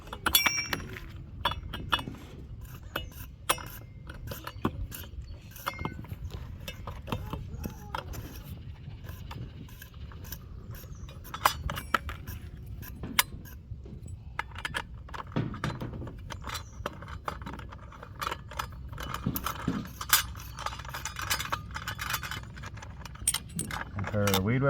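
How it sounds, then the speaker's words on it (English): Metal clinks and jangles of a nut and washer being unscrewed from a string trimmer blade, with repeated small ratcheting and clattering sounds close by over low background noise. "And now we take this nut back off."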